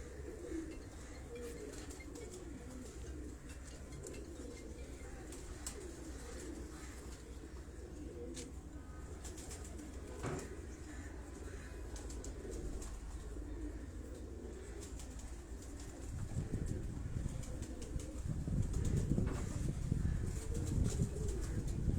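Breeding pigeons coo softly in a loft, a low steady murmur of calls that grows denser and louder toward the end, with faint wing flutters.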